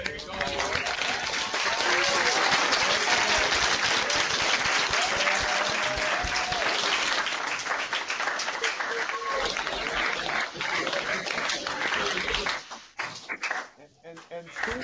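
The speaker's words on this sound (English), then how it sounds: "join me in saying thank you and giving a round of applause to Pro Football" A round of applause from high school students, loud and dense, with cheering voices mixed in, holding steady for about twelve seconds before breaking up into scattered claps and talk.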